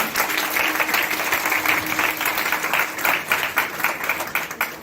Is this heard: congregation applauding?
yes